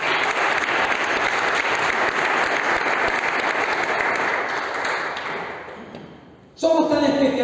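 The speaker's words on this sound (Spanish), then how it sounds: "Den un aplauso al que vive." Congregation applauding during a Spanish-language church sermon: sustained, loud, dense clapping from a large crowd that fades out over several seconds before a voice cuts in abruptly near the end.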